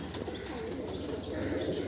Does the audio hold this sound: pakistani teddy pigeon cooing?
yes